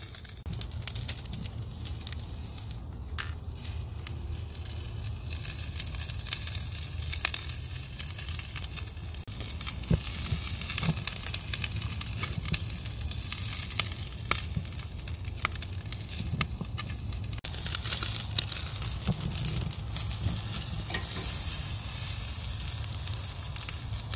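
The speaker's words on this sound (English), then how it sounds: "if you hear that sizzling, it means you're doing a good job" A dry-aged ribeye steak sizzles steadily on a hot grill, a continuous crackling hiss with occasional sharper pops, close and fairly loud throughout.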